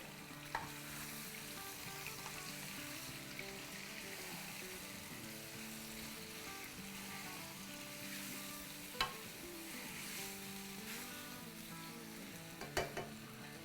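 Garlic and ginger paste frying in oil for egg and potato biryani, a quiet steady sizzle with occasional spoon scrapes and taps against the pan, music faintly underneath.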